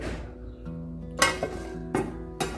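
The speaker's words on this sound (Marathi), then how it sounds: "बघा छान अशी हलवून घ्यायची" A taro leaf curry is stirred in a pan on the stove. A utensil clinks sharply against the metal three times, and low cooking sizzle and a faint hum fill the gaps between the clinks.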